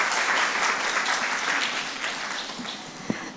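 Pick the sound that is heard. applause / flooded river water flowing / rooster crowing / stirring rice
applause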